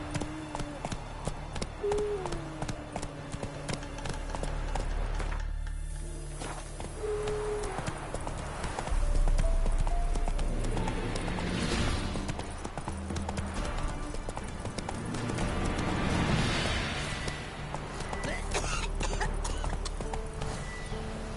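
Roach, the horse in The Witcher 3, gallops with steady, loud clip-clop hoofbeats and an occasional neigh, shifting pace partway through over a busy game soundscape.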